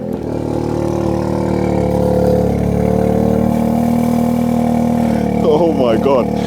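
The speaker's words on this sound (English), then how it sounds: "I just want you guys to hear the cold start." A Stage 2 Audi S3 engine cold starts and settles into a loud, steady, droning idle close by; a voice starts talking near the end.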